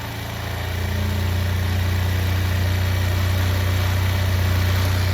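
Motorcycle engine idling steadily after a carburettor adjustment, a close, continuous low hum with a slight rise in level during the first second, then holding an even, vibrating drone throughout with no voices.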